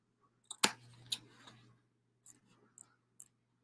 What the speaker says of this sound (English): When you cut foam, it makes a really weird noise